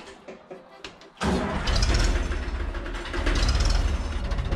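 A Polish farm tractor known as the 60 cranks over and its engine catches, settling into a loud, close, steady rumbling idle after a few seconds of cranking.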